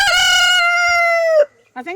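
A single loud rooster crow rings out close by on a homestead, long and drawn out, followed after a brief pause by a short clucking sound.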